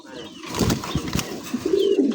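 Pigeons coo in low, throaty murmurs at a bird market, set against busy background noise with a few soft thuds.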